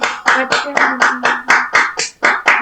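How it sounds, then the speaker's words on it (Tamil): A group claps hands in a steady, even rhythm, about ten sharp claps close to the microphone, with a faint voice underneath. "கைதட்டுங்க ஒரு தரம்"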